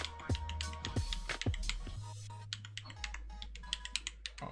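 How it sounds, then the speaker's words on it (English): Testing the keys of a GMK mechanical keyboard gives rapid, irregular clacks of typing, close and crisp, with a few louder isolated keystrokes amid steady low hum. "So let's test this keyboard now,"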